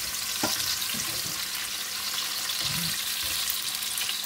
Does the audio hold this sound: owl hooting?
no